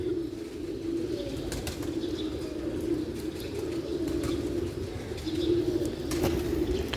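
Pigeons in a loft, with soft cooing and light wing flaps over a steady low hum, moderately close and continuous.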